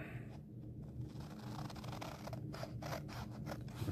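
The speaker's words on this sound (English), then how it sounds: "I'm just going to cut a line right to it and then cut it out." Scissors cut out a square of paper along a drawn line, making a quiet run of repeated crisp snips and scraping blade sounds with no talking.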